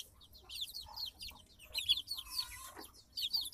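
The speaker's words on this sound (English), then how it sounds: "Here's the 10 middle chicks." A group of about ten young chicks out on fresh grass on a farm chirp in high, rapid, overlapping peeps. The sound is faint and fairly distant, with a low background hum beneath it.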